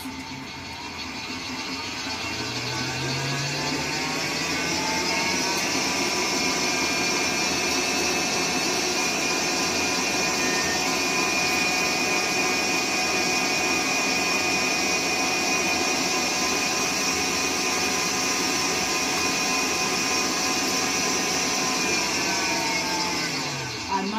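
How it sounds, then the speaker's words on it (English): An electric stand mixer runs loud and high-pitched while whipping German buttercream frosting. It spins up, holds a steady whining drone for about twenty seconds, then winds down. "a very loud, pitchy sound. And that was that mixer."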